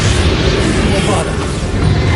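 A Bombarda blasting spell explodes in Hogwarts Legacy, a loud, sustained booming roar with heavy low-end rumble and crashing texture, lasting about two seconds without a break.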